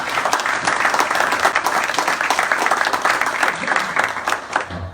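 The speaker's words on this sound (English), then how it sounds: "let's give Gary a round of applause" A crowd gives a steady, dense round of applause for state Rep. Gary Hicks at a funding announcement for the Phipps Bend truck driving school, sustained and fairly loud throughout with no one speaking over it.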